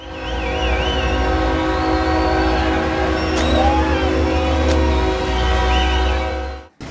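A freight train rumbles steadily and loudly in Mexico, with a horn sounding over the continuous rolling noise of the cars before it cuts off abruptly.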